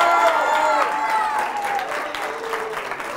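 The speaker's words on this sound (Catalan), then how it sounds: "Aplaudiment també" A studio audience on a Catalan television game show applauds a team from Barberà del Vallès, with steady clapping running under a host's voice and music tones.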